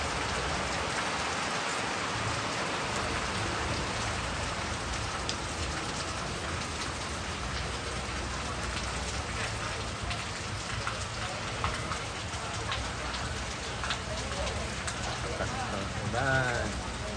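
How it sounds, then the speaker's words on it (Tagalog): Steady rain pours down and patters on surfaces in Panglao, Bohol, forming a dense, even wash of sound throughout, with faint voices talking underneath. "Ulan."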